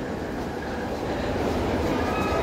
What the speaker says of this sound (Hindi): और दिल्ली मेट्रो का एक सैंपल